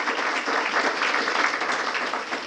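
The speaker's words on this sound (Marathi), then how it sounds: "खरोखर जोरात टाळ्या एकदा आपल्याला वाजवाव्या लागणार आहेत." Audience clapping at a music class's annual gathering, a dense, steady burst of applause from many hands filling the room, with no talking over it.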